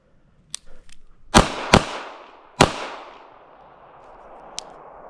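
A S&W Bodyguard 2.0 pistol fired at an IDPA silhouette target from about seven yards on a range, three loud sharp shots in quick succession with ringing decay, plus fainter clicks before them.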